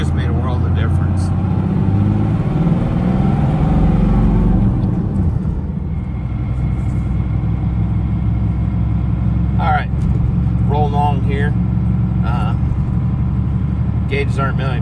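A 5.9L Cummins diesel in a 2nd gen truck, suspected broken turbo, rumbles and rises as the throttle is rolled in, a steady close engine drone with a voice talking over it.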